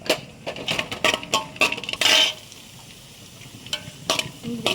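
Cashew nuts fry in ghee in a pan for vermicelli payasam, with a soft sizzle beneath sharp scraping and clinking stirring strokes, plus one louder hissing burst partway through.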